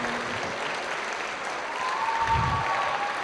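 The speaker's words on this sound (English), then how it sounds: "Let's get a big round of applause right now, please, for the Maid of Honor, Heaven." Wedding reception guests give sustained applause for the maid of honor, a dense wash of clapping from a crowd indoors that carries on steadily throughout.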